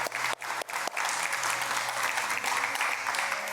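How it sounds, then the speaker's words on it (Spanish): An audience applauds after a personal testimony, with a few separate claps at first that quickly swell into loud, sustained clapping. "Vamos otro aplauso por favor también."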